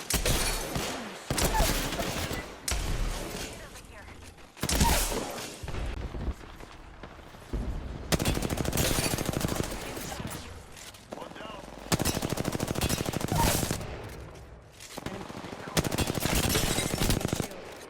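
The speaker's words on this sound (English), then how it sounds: "I'm taking shots." Rapid automatic gunfire in the Apex Legends video game comes in loud repeated bursts of a few seconds each, separated by short lulls, with a player's voice talking between volleys.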